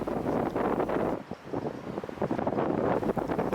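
Wind buffets the microphone in gusty, rumbling bursts, loud and close, rising and falling unevenly with no voices present.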